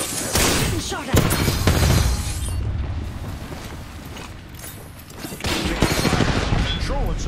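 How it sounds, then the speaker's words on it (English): Gunfire in the video game Apex Legends comes in clattering bursts mixed with metallic mechanical noises and impacts, loud and busy throughout, with a voice speaking over it. "Getting shot at."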